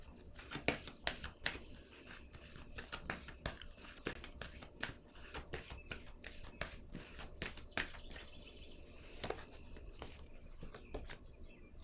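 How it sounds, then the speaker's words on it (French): Oracle cards drawn and laid down one after another during a card reading, giving a steady run of soft papery slaps, shuffles and flicks, close and fairly quiet, with no voice over them. "Je vais déposer une autre carte."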